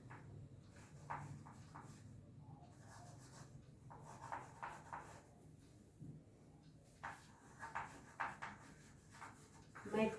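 Pen or marker writing an equation, soft intermittent scratching strokes in short bursts across a quiet room, faint and close.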